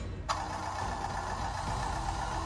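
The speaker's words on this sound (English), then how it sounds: "Sounds like an engine going." A small electronic engine sound from a Mould King Leopard II toy tank kicks in abruptly and hums steadily, a toy-like motor rumble that runs unchanged to the end.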